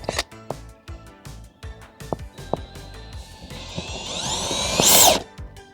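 Several sharp knocks and clatters, then a power drill whirs up inside a Volkswagen Beetle during a sound system install, rising in pitch and loudness before cutting off abruptly as it slips through a speaker.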